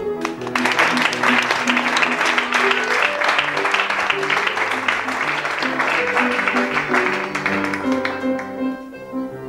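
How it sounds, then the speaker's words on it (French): Studio audience applauding at a French TV comedy show, a dense steady wash of clapping that holds loud and even for several seconds, with music playing underneath and fading near the end. "on vous applaudit."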